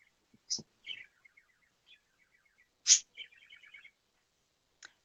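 Birds chirping nearby in short, sparse bursts: a few sharp high calls and quick trilled tweets separated by quiet gaps, with no talking.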